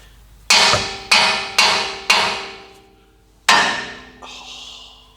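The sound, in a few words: hammering on a nut to loosen suspension part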